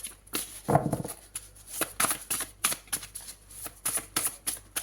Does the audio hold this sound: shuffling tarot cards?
yes